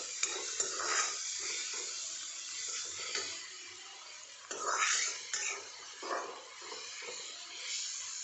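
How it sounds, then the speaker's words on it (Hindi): Chopped tomatoes and spices cooking in a pan for a kundru (ivy gourd) curry, with a soft, steady sizzle broken by scraping stirs and a few spoon knocks against the pan, fairly quiet and close. "इसको पकाएंगे और अच्छे से चलाएंगे, साथ साथ में मसाले भी भुन जाएंगे और टमाटर भी हो जाएगा।"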